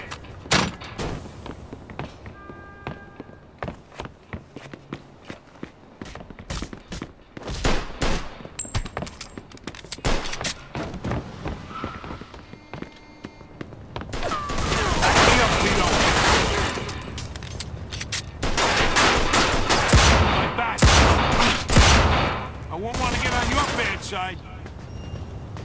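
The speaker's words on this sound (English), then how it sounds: "Stop shooting that fucking thing." Gunfire in Mafia II: sharp shots and bursts scattered across the scene, building into heavy sustained volleys in the second half, with voices talking in between.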